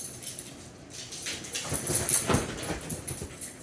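A puppy at an airport whimpers and whines in short, thin bursts amid background bustle, growing louder midway with a few scuffling sounds.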